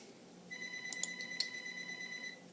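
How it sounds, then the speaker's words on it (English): A telephone rings with a quiet electronic ringtone, a steady high tone with a couple of brighter beeps, faint and distant in a quiet room. "I'm just going to go check that phone quickly."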